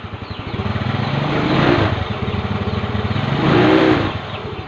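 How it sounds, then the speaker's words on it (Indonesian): A Yamaha Mio J motorcycle engine idles steadily close by, its putter swelling in two revving surges before settling back, with no talk over it. "langsung nyalakan mesinnya mas bro"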